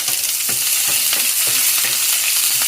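Garlic and onion sauté in a hot pan as part of a tilapia dish, a loud steady sizzle with repeated scraping stirs roughly every half second, close and uninterrupted by speech.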